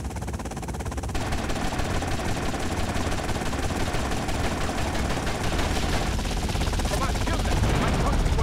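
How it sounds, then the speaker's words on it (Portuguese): A police helicopter in the video game GTA Vice City, a loud, continuous rotor chop mixed with rapid gunfire, with a player talking over the chaos. "Oh, my God, they've got a helicopter."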